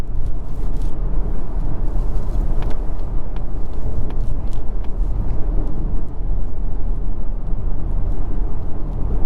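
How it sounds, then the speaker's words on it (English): Steady broadband road and tire noise inside a 2023 Mazda CX-30 Turbo Premium Plus cruising just under 60 mph on the highway, a constant loud rumble with no talking. "road noise going at about just under 60 miles an hour"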